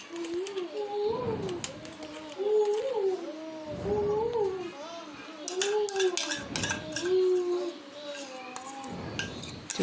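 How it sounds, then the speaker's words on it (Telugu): A spoon stirs cream into milk for a homemade cappuccino, clinking against the cup in repeated bursts up close, while someone talks over the stirring. "క్రీమ్ అనేది నేను వేసి మిల్క్లో ఇలా కలుపుకున్నాను"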